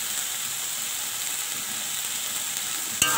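Shrimp frying in a pan with salt, turmeric and spices: a continuous close sizzle and hiss, ending in a single sharp stirring knock.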